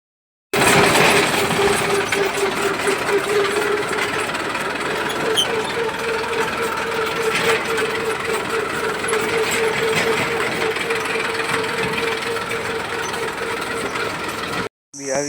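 A tractor engine runs steadily and loud at Umrali, a continuous mechanical drone with rattling, knocking texture throughout, close to the listener.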